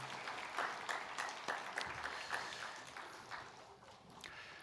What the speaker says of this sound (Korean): 우리 다시 한번 큰 박수로 하나님께 영광 돌리고 찬양대 축복합니다.